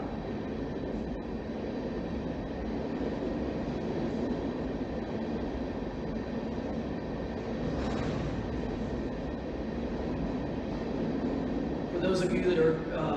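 A freight train rolls past in a small railway town, a steady broadband rumble and rattle of wagons holding through the whole stretch, with a brief squeal or clank near the end.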